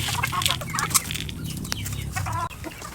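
A white Kelso chicken clucks in short, close bursts, several soft calls in quick succession over a busy farmyard background, with no talk.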